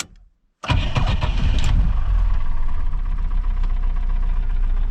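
A GAZ-21 Volga car engine converted to LPG gas starting: near silence, then a sudden crank and catch into a loud, rough, close idle with a steady low rumble and light knocking.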